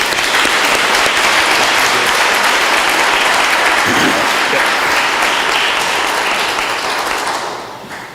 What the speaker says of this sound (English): I want to give him one more round of applause for what he does